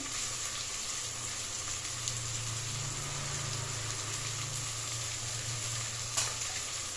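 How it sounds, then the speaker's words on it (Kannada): Beans, potatoes, carrots, fresh peas, coriander and mint frying in a pan for vegetable rice bath, a steady close sizzle with faint stirring, no talk. "ಪುದೀನಾ ನೀಟಾಗಿ ಎಲ್ಲದನ್ನು ಚೆನ್ನಾಗಿ ಫ್ರೈ ಮಾಡ್ಕೊಳ್ಳಿ"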